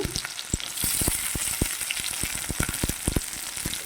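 Chopped onions and green chillies fry in hot oil with a continuous crackling sizzle, punctuated by frequent sharp pops and stirring taps at an irregular, lively rhythm.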